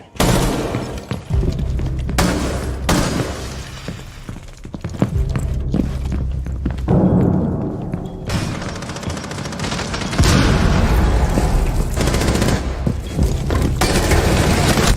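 Rapid bursts of in-game gunfire in Rainbow Six Siege, loud and close, with dense volleys of shots and impacts that come in waves across the round against constant game noise.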